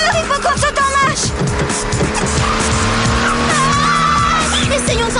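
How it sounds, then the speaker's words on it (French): An out-of-control cartoon car with unresponsive controls from Totally Spies skids with loud, close tire squeals over a roaring engine, wailing screeches rising and sliding through the short burst amid busy soundtrack effects. "C'est pas moi, c'est la voiture. J'arrive plus à la contrôler."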